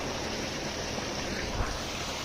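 Irrigation water pours from two motor pumps, a constant hissing rush with a faint low rumble underneath and one brief bump near the end, with no talking.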